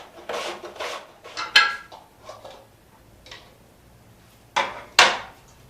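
Onions sliced on a mandoline in a home kitchen: a few sharp rasping strokes, some quick and clustered, then a pause before two louder swipes near the end, close and otherwise quiet.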